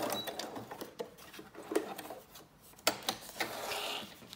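Short irregular bursts of a sewing machine stitching lace onto a paper junk journal label, close up with brief stops and starts and small handling knocks between runs.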